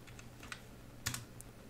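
Commands typed on a computer keyboard, a few quiet scattered keystrokes with one slightly louder cluster of clicks near the end, heard close up with no talking.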